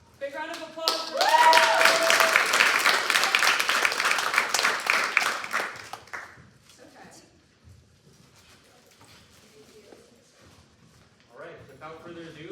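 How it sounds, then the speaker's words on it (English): Audience applause at a startup demo day, loud broadband clapping for about six seconds with cheering and voices mixed in, then fading into quieter room murmur and scattered speech. "round of applause for"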